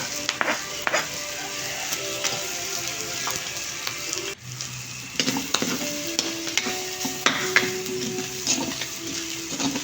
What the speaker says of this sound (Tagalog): kamatis, igisa rin natin. Sunod naman natin yung sibuyas.